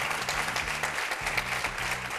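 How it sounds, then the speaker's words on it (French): Audience applause at an Africa Web Festival prize event, a steady bed of clapping with a low musical hum running underneath throughout the short stretch. "Public, on peut encore applaudir Ami parce qu'elle le mérite."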